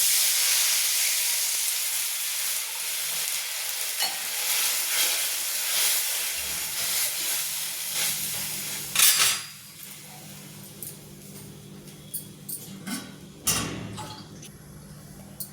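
A glass of water poured into a sizzling spiced peanut curry in a pan sets off a loud burst of hissing steam that fades, followed by scattered clinks of a utensil against the pan.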